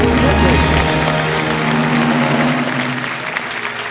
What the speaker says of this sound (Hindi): हम भी ताली बजा देते हैं।